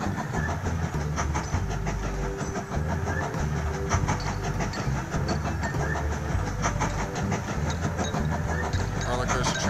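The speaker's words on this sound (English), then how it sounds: "This roller coaster train." Train running in the video game Mashinky, a continuous rumbling rail clatter with rhythmic clicks under game music, with a person talking over it.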